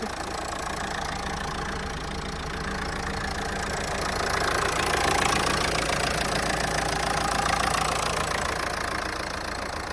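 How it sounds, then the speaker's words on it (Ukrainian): A Renault Megane engine idles under the open hood, a steady even hum with a faint ticking texture, swelling slightly louder midway, close and continuous with no talk. "Двигун працює ідеально антифриз чистенький."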